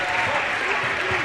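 Continuous roar of a crowd at a high school basketball game between Barnesville and Hawley, a dense steady wash of cheering and clapping throughout with no pauses.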